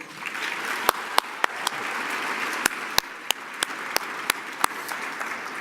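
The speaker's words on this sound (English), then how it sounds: "how about another round of applause for my friend, the talented Miss Regina Bell" A gala crowd applauds singer Regina Bell at an awards dinner, a full, lively wash of clapping with distinct sharp claps popping out irregularly near the microphone throughout.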